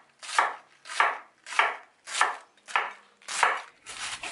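Red cabbage is sliced on a cutting board for a Lebanese/Armenian vegan slaw: seven even, crisp knife strokes about every 0.6 seconds, each a close crunchy thud, with nothing else audible.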